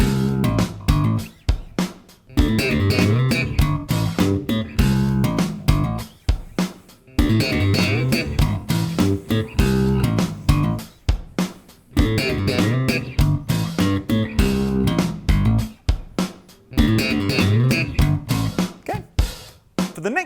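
Slap bass guitar playing triplet figures over a full backing track, punchy popped and thumbed notes repeating in steady busy phrases with drums and accompaniment throughout, loud and continuous.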